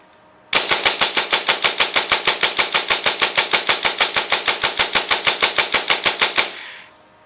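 An M4 fires full auto after a rate-of-fire adjustment: one loud, steady burst of about six seconds, with rapid evenly spaced shots close by and no talk.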